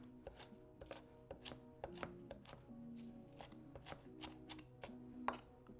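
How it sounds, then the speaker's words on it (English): A knife chops repeatedly on a cutting board, cutting ingredients for a chopped Italian sandwich, quick sharp strikes in uneven bursts, fairly close and clear with no talking. "it's called a chopped sandwich, so let's keep chopping"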